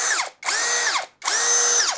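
Kamolee cordless drill driver whirring in three bursts of high-pitched motor whine, each spinning up and winding down, close and loud with brief pauses between and no talking.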